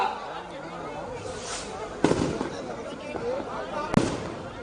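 Firecrackers burst at a crowded Ayyappa Swamy padi puja and homam gathering, two sharp loud pops standing out over constant crowd babble and chatter.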